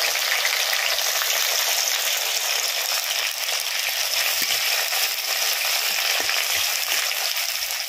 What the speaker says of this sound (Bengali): পেঁয়াজটা একটু ভেজে নিয়েছি,